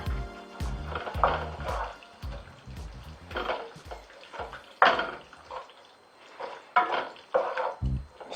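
Chicken saag sizzling in a pan while a teaspoon of garam masala is stirred in, with repeated scraping and stirring strokes over a steady frying hiss, close and moderately loud, no talking.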